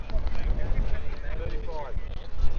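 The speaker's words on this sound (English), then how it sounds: "the wind's picked up a little bit, so that's spoiling the entertainment a little bit" Wind gusting across an outdoor non-league football match, a steady low rumble buffeting the microphone throughout, with a commentator talking over it.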